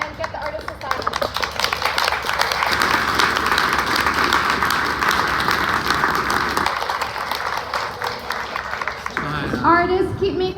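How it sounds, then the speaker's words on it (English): An audience at an art book launch breaks into sustained applause for the artists, a broad wash of clapping lasting several seconds with voices underneath and a voice near the end. "Let's clap for them"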